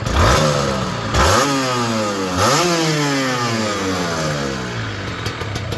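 A Kawasaki Serpico 150 SE motorcycle's stock engine revs hard three times in close succession, each sharp rise in pitch falling back before the next, close and loud with no talking.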